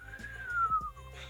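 A person whistles a single long, smooth, slightly descending tone, imitating an eerie droning hum, with faint low background noise.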